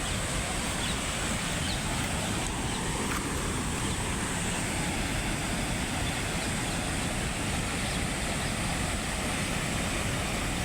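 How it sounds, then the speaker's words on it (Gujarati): Water released through the opened gates of the overflowing Hamirpara dam rushes in a loud, unbroken roar that stays constant and close throughout. "જો બધું પાણી જાય છે."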